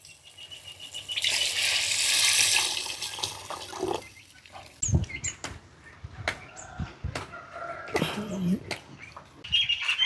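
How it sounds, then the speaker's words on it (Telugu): A gush of water pouring into tamarind stew for a couple of seconds, followed by scattered clinks, taps and faint kitchen clatter. "పులుసుకి కొంచెం నీళ్ళు పోసుకుందాం"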